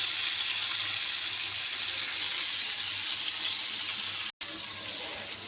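Rupchanda pomfret fish fry in a pan with a loud, continuous, hissing sizzle, broken only by a brief gap near the end. No voices are heard.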